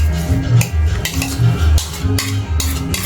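A spatula scrapes and knocks steadily against a bowl while mixing food, a loud, rhythmic clatter of repeated strokes up close.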